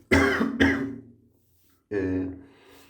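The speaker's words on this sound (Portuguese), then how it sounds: "eu tô tossindo bastante" A person with a weak voice coughs hard twice in quick succession, then gives a longer rough cough after a short pause, close and loud.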